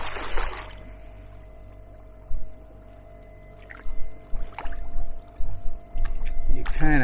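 Kayak paddle strokes with a 230 cm paddle, heard as soft intermittent splashes and drips over a steady electric motor hum on open water, with someone talking under them.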